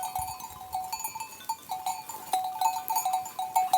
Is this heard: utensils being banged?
no